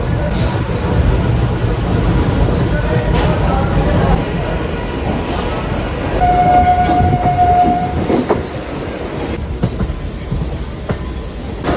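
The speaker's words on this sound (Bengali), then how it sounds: "আমাদের ট্রেন ছেড়ে দিল শিয়ালদা স্টেশন থেকে" Kolkata suburban local train pulling away from Sealdah station, a steady loud rumble of wheels and carriage rattle throughout, with a brief high whistle-like squeal midway and faint background voices.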